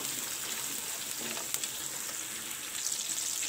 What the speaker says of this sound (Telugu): ఈ ఉల్లిపాయలు కొంచెం బ్రౌన్ కలర్ వచ్చేదాక వేపుకోవాలి